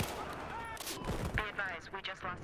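Short bursts from a K10 submachine gun in Battlefield Hardline crack out several times in quick succession, sharp and close, with a voice talking over part of the firing.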